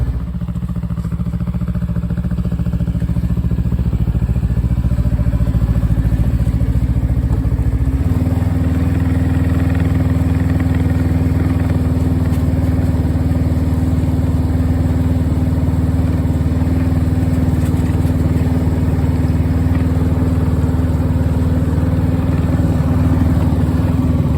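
A 2021 Ski-Doo Tundra LT 600 ACE snowmobile engine runs steadily at slow crawling speed on thin snow, a loud continuous mid-pitched drone that shifts tone partway through, with no talking.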